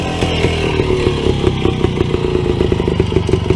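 A small two-stroke WSK 125 motorcycle engine putters steadily nearby, with a rapid, rattly idle pulse and light mechanical clatter throughout.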